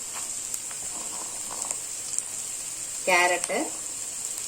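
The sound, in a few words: onions and vegetables sautéing in a pan for Maggi noodles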